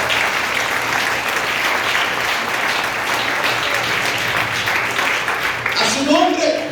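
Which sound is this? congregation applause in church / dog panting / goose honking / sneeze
congregation applause in church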